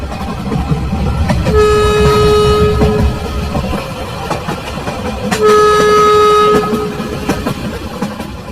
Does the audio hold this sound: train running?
yes